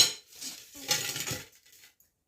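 Plates of rice set down in a home kitchen, a few close metallic clinks and scrapes of dishes and cutlery in a brief cluster, then quiet.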